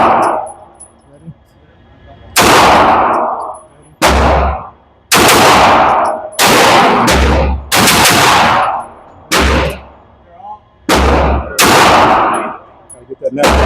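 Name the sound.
gunfire at a shooting range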